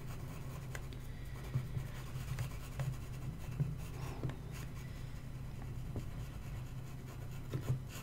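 Pencil scratching on paper as a fig is drawn, soft close strokes with a few sharper scrapes, quiet and alone against faint room noise.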